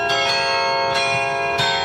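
A carillon bell struck by its clapper as a key is pressed, one of 51 bells in a four-octave instrument, ringing with rich sustained overtones and several fresh strikes in close succession, loud and near.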